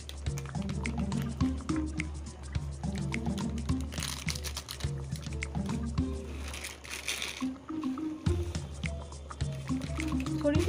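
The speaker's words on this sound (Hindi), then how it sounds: "अब ये छोला पक रहा है, इसमें अच्छी तरह से उबाल आ गया है। देखिए कैसे बबल्स आ रहे हैं इसमें।" Chhole, a Punjabi chickpea curry, boils in a pot with steady, close wet bubbling and popping, a continuous liquid churn of soft blips running throughout.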